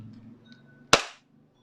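A Hicapa 5.1 SSP-1 airsoft gas blowback pistol fires a single sharp, loud shot with a short ringing tail, standing out alone against quiet room hum.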